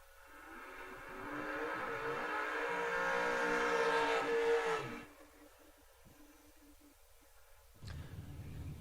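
First-generation Camaro drag car racing at a memorial drag race event, a loud engine roar building and sustained for several seconds before cutting off abruptly, then a second engine surging in.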